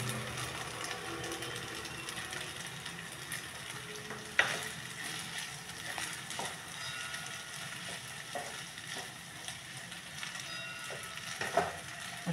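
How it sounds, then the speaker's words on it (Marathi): Sabudana khichadi with crushed peanuts is stir-fried in a pan, a low steady sizzle with scattered scraping knocks from a spatula stirring through it, quiet and close with no talk. "आता हे 5 मिनटं परतत राहायचं आहे."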